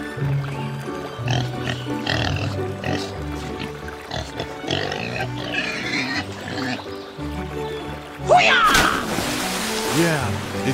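Pig grunts over background music and a voice, then a loud splash near the end as something plunges into water and sloshes.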